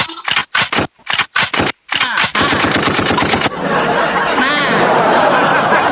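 Loud machine gun fire sound effect plays in rapid bursts separated by brief gaps, then runs into a continuous rattling stream that blends with scraping noise toward the end.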